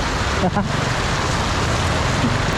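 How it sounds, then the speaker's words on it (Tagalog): Heavy typhoon rain in the Philippines pours in a dense, steady hiss, with a voice briefly heard under it. "Jeez, lakas ng ulan."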